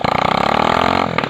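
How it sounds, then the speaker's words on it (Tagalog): A motorcycle engine running with no exhaust pipe fitted gives a close, loud, buzzing chainsaw-like rattle at a fast, even pulse that stays steady throughout. "Talagang ganito lang ang angdar kapag hindi pa linagay ang tambutso para bang chainsaw"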